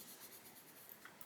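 Coloured pencil rubs lightly across paper while colouring, a soft continuous hiss of slow, gentle strokes with a few faint ticks near the end.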